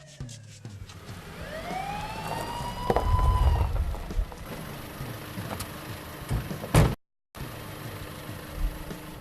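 A police siren wails in rising and falling sweeps, fairly close, over rumbling background noise, then cuts off abruptly before a brief silence and faint clatter.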